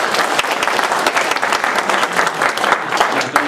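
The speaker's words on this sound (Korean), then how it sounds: "그동안 많이 애써주신 우리 이주영 교수님께 격려의 박수 좀 전해주시면" An audience at a lecture gives a professor encouraging applause, with close, loud, dense clapping and distinct individual claps standing out.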